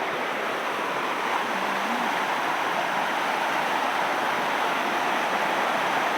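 Steady broadband rush of running water, continuous and fairly loud, like a stream flowing close by with no voices.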